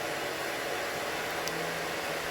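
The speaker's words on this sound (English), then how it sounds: "I am now currently using the cool air from the blow dryer to seal down" A blow dryer runs steadily on its cool setting over a client's hair closure, giving a constant close airy whoosh with a faint motor hum and no talking.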